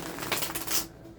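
A short riffle of cards being shuffled, a quick flurry of crisp flicks that stops abruptly into near silence.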